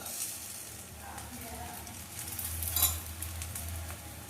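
Akki rotti, a rice flatbread, cooks on a pan with a soft, steady sizzle of frying, faint and close, with a brief scrape partway through.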